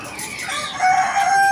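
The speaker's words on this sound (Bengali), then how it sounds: "এখানে আছে মুরগি।" Chickens on a farm that also keeps pigeons, turkeys and nilgai, with a rooster's crow rising over nearby clucking, loud and close throughout.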